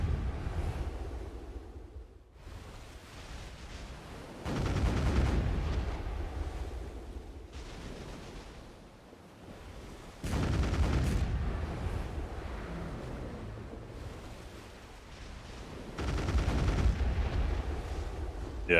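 Heavy booming blasts of ship cannons in the video game Black Desert Online come in three or four bursts, each followed by a rumbling roar, over a continuous windy wash.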